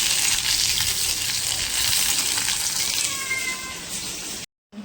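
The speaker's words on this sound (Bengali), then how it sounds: "তার মাছ ভাজা হচ্ছে এখন এখানে" Fish fries in a pan without salt or turmeric, producing a loud, hissing sizzle that fills the space. A brief cat meow rises partway through, and the sound cuts out near the end.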